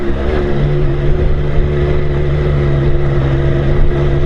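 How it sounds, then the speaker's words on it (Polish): A motorcycle engine drones steadily and loudly, holding high revs as the bike labours up an extremely steep, narrow mountain road in the Alps, with constant engine hum throughout and no talking. "Zresztą słychać po obrotach silnika, nie?"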